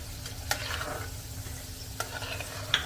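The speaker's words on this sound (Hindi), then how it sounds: "गोल्डन ब्राउन होने तक इनको फ्राई करना है।" Besan tikki frying in hot oil until golden brown, giving a steady soft sizzle throughout with a few sharp clinks from a utensil, and no one speaking.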